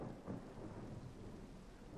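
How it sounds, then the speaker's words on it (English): Rain pours steadily during a Minecraft thunderstorm, with a low rumble of thunder rolling underneath, a soft, constant hiss and no voices. "Oh, we got rain. Great. Gotta love the rain."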